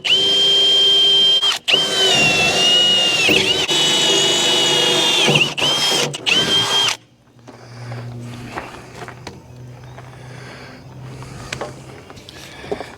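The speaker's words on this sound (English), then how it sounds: "nothing's going to shift when I start drilling" A power drill bores through IBC plastic, two sheets of quarter-inch plywood and quarter-inch metal on a log lift, whining loudly with two brief pauses before cutting off, followed by quieter handling clatter.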